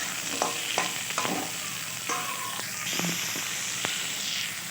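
Cut potatoes fry in oil with onions as they are stirred, a steady close sizzle with scattered scraping strokes of the spoon across the pan.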